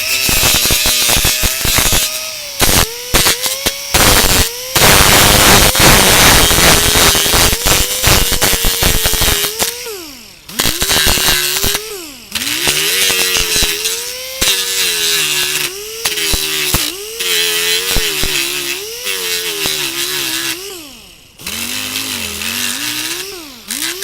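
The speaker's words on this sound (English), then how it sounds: "So get your air angle grinder and watch how fast and easy this takes." An air angle grinder sands the seam of a Knight Rider TV dash in loud, close bursts, its whine rising and dropping as the tool is pressed on and eased off, with short pauses between passes.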